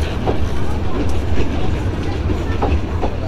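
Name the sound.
meter gauge passenger train departing station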